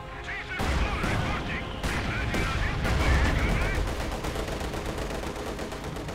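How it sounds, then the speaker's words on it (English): Mortar bombardment and gunfire in the Company of Heroes 2 strategy game, dense loud battle noise with repeated blasts and crackling shots, layered with game voice lines throughout. "So mortar just continues to bombard away."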